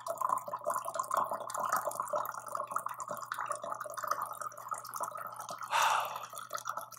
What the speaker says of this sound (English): it's taking a long time to fill up this glass of water